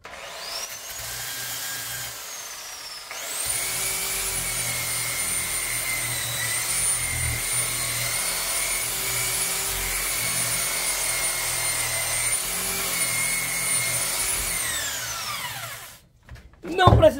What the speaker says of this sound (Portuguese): Aqui eu venho agora com a lixa de papel na politriz